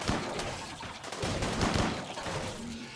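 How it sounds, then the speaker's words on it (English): Rapid, overlapping bursts of combat shotgun fire in the RimWorld video game, a dense stuttering fusillade of blasts at moderate loudness with no talk over it. "combat shotguns are absolutely making a mockery of their bugs"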